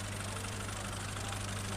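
A 2009 Fiat 480 tractor with power steering, its engine idling nearby in a steady, loud, low rumble that stays even throughout, with no talk over it.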